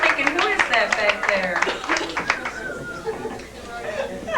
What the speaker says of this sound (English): Let's have a big round of applause for Jenny Magnus and Bo O'Reilly